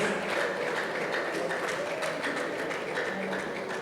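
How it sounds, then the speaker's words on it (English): A crowd at a political party press event applauds steadily, a dense and even wash of clapping that holds at the same level from start to finish with no voices over it. "I think Prince deserved another round of applause. If not a standing ovation"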